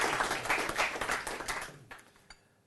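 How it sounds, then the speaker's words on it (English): Applause from an investor presentation audience, a dense burst of clapping that thins out and fades to near silence by the end. "he can have an applause when entering"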